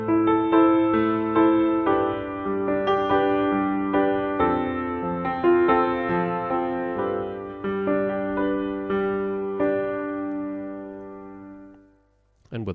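A free VST piano plays alone without the Spitfire Labs layer, a slow sequence of sustained chords and single notes ringing clearly before fading out near the end.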